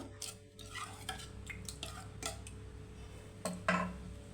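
A spoon stirs sizzling tempering into drumstick leaf dal in a pot, giving scattered soft clinks, scrapes and clicks over a faint steady hum and a louder scrape near the end, with no speech.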